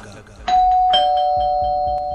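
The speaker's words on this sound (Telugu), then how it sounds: "ఆ ఇంటి కాలింగ్ బెల్ మోగింది." A house calling bell rings at night: a sharp electronic chime strikes, then a second tone rings out and sustains clearly to the end, with faint background sounds beneath.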